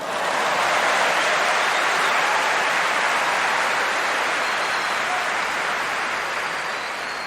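A football stadium crowd at a Premier League match roars in one dense, sustained wall of noise, loud and unbroken for several seconds before easing slightly at the end.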